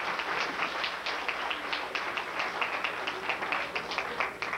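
Audience in a First Assembly of God church in Buhl, Idaho, at an Easter service, clapping steadily throughout in a dense, continuous wash of applause with no voices on top.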